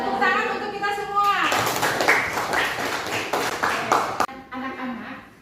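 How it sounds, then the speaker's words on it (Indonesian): Children in a classroom break into brisk clapping that rises after a teacher's voice and carries on for several seconds, then cuts off sharply before speech resumes. "Tepuk tangan untuk kita semua."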